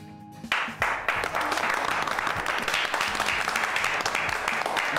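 A theatre audience breaks into sustained applause after a stage performance by a college drama team, dense clapping that starts abruptly and continues steadily, fairly loud and filling the room.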